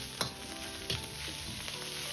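Sliced pork stir-fries in a wok, a continuous sizzle punctuated by two distinct spatula clanks against the metal as the meat is tossed, fairly quiet and with no voices.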